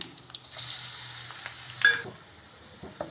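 Crushed garlic frying crisp in a pan for a potato stir fry, a steady close sizzle with a few light stirring scrapes and clinks.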